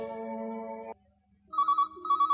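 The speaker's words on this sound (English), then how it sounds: "Just then, the telephone rang." A telephone rings in a hall: a long bell-like tone, a short pause, then repeated electronic trills, clear and fairly close with no talking.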